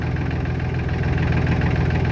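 A Solis 26 Extra tractor engine idles close by, a steady, even low thrum with a faint pulsing beat throughout and no talking.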